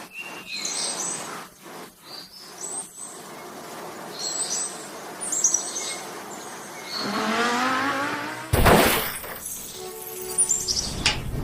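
Small birds chirp outdoors on a terrace in repeated short bright calls, joined later by a passing vehicle whoosh and a sharp, loud clatter near the end.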